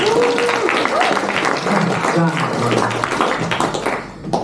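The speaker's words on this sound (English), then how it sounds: "Round of applause for my rope examiners." Audience applause at a magic show for the volunteer rope examiners, steady broadband clapping filling the clip with voices and whoops mixed in over it.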